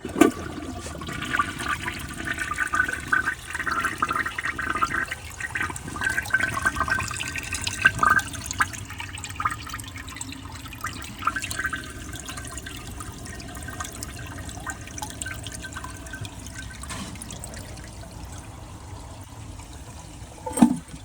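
A Glacier Bay high-efficiency toilet flushes with its handle held down, water rushing and gurgling steadily through the bowl for about twenty seconds, with a few louder swirls and splashes along the way.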